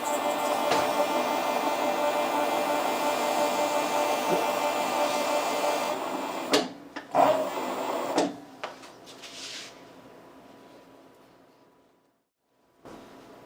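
A Cobra leather splitting machine runs with a steady mechanical whir, then clunks and rattles as leather feeds through before the motor winds down and falls quiet.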